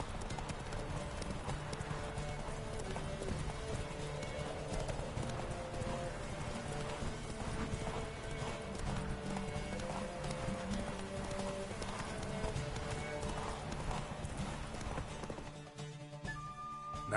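Roach, a horse in The Witcher 3, gallops in a race, its hoofbeats drumming in a dense, fast, unbroken rhythm that stays loud and steady throughout before briefly easing near the end.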